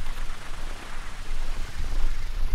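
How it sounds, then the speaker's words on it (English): A wind generator runs on a sailing boat, charging the batteries with the engine off: a steady, airy whirring rush that holds at an even loudness throughout, with no voices. "That noise you can hear, is the wind generator."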